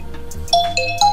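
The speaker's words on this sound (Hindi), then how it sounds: "रिंगटोन में।" A short electronic Oppo or Vivo phone ringtone plays bright melodic chime notes in quick succession, close and clear.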